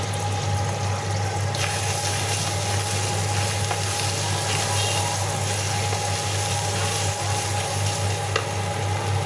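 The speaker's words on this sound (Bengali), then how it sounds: "এখন আবার একটু ভালোভাবে ভেজে নিব।" Spices and coriander paste fry in a pan for chicken curry, making a steady, even sizzle over a constant low hum, with no talk.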